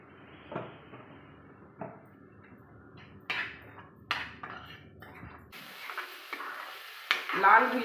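Onion filling for kachori, seasoned with turmeric and salt, fries in a pan. Intermittent scrapes and stirs of a spoon sit over a low sizzle that grows louder and denser toward the end, with no talking.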